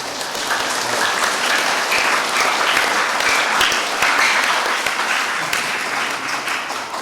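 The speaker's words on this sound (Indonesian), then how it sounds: "Mari kita tepuk tangan dulu." A church congregation applauds at a Mass for First Communion and adult baptism, with dense, sustained clapping that fills the space loudly and evenly, without talk, for several seconds.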